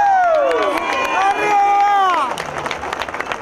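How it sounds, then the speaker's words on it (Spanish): Crowd applause and cheering at the inauguration of a political committee office in Artigas, a loud steady wash of clapping with tonal voices rising above it, fading slightly toward the end. "para los cuales pido un fuerte aplauso."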